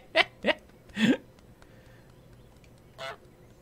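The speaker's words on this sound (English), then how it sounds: "It was a Canadian goose." Several loud, nasal goose honks from Untitled Goose Game, three in quick succession and then a fourth after a pause, close and clear over a quiet background.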